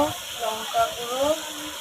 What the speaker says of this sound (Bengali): তো জিরে গুঁড়ো দিয়ে দিলাম। এবার দেব হলুদ গুঁড়ো, এবার দেব লঙ্কা গুঁড়ো